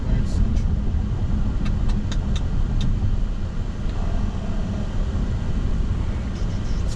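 A car driving in steady traffic on a highway toward Brooklyn via Queens, with a continuous low engine and road rumble throughout, and no one talking.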